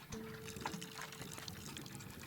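Water trickles and pours softly onto a potted plant in the video game Botany Manor, a faint, continuous splashing with light clicks and no speech.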